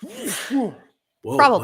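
A short sneeze bursts out amid voices in a talk-show setting, followed by a brief silence and more speech.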